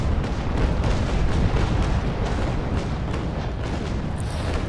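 Frigate cannon fire in Naval Action, from the USS Constitution, sounds as a continuous loud barrage of booming broadside shots. Heavy, overlapping blasts roll together with no pause.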